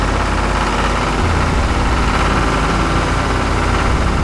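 Mini tractor engines running in a muddy race, a steady, loud, dense engine drone with low rumble and rattling vibration that holds throughout without letting up, no voices.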